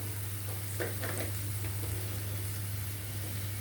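Ginger garlic paste fries in a pan for a potato kurma, giving a steady, even sizzle with a few faint stirring scrapes near the start, with no voices over it.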